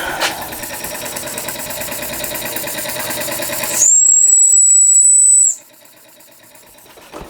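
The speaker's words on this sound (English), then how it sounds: "See if we can get the whistle to work." A Swan M1 model steam engine chugs close by, then its whistle blows a single loud, steady, high-pitched blast lasting nearly two seconds before cutting off sharply, leaving quieter running afterward.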